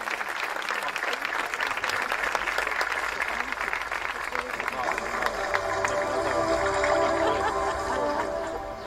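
A school audience at a 2021–2022 high school graduation ceremony in İzmir claps steadily for several seconds, a dense, loud wash of applause that swells slightly toward the end.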